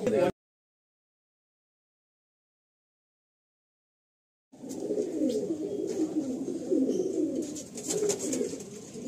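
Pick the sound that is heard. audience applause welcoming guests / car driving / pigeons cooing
pigeons cooing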